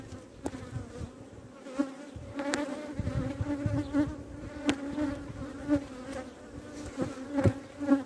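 Honeybees drone continuously around a hive that has been opened for inspection, a dense steady hum close by, with scattered clicks and knocks of handling the hive.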